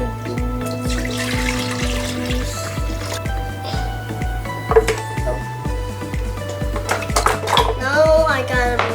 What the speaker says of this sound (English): First, put that orange juice.